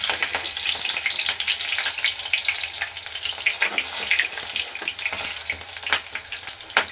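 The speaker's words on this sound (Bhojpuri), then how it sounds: "तेल अच्छा से गरम हो गइल बा। अब तड़का के डाल ली। तो सबसे पहले मरचा आ जीरा के डाल लेगा।" Chili and cumin sizzling in hot oil in a kadhai for the tadka of a chickpea and potato curry, a loud, close, steady frying crackle with popping bursts, with no talking.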